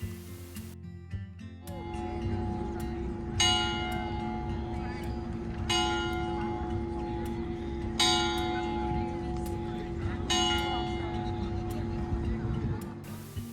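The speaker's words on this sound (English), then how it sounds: "And I got to catch this cute little church and its bells." Church bells ringing in the village of Soulac-sur-Mer, France, with a steady series of resonant strikes repeating every couple of seconds over a sustained humming ring and outdoor background.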